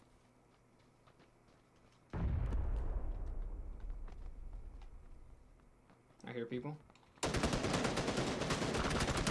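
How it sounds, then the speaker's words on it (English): Gunfire in a multiplayer shooter video game, a sudden loud burst followed by a fading rumble, then a short volley and a final sustained loud crackle of shots, with players talking. "Some shots on the right somewhere."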